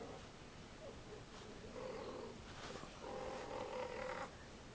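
A cat purrs softly and steadily, a faint low rumble that swells slightly in a couple of longer breaths, heard close with no talk over it.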